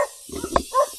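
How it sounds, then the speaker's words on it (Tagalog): A single short dog bark cuts through, close by, with faint background noise around it. "May aso."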